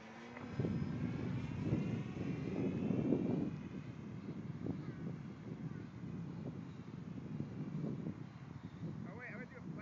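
An E-flite Pitts Model 12 RC airplane flies overhead, its engine droning steadily across the whole stretch under wind noise, with people talking through it.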